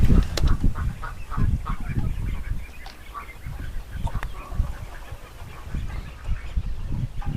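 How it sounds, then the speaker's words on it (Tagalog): Pekin ducks on a game farm give repeated loud, honking quacks that overlap one another in an irregular flurry, close by, over a steady outdoor background. "May peking duck pa kami."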